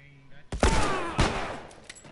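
Gunfire in The Last of Us video game: a loud, close burst of shots with a sharp second report and a ringing tail, after a brief quiet lead-in.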